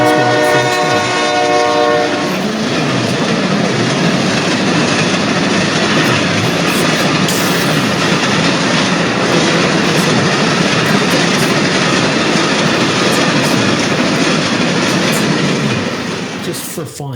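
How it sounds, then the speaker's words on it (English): A train passes close by with a loud, sustained horn blast and rumbling wagons throughout, holding steady before fading slightly at the end. "That's the train."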